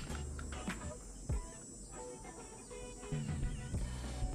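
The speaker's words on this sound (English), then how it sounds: "there's a lot of nature right outside my window, so heat bugs are out" Cicadas (heat bugs) drone steadily outdoors beyond a window, a faint continuous buzz under nearby room noise and soft handling sounds.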